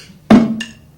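A drumstick strikes and rests on the drum too long after the stroke, producing a single choked, short hit with a quick dull tail rather than a free ring.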